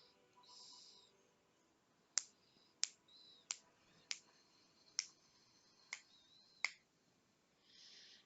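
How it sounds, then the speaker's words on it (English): Seven crisp finger snaps ring out one at a time at an uneven pace, close and sharp against a quiet room with faint background rustle between them. "Sorry, I'm just snapping my fingers."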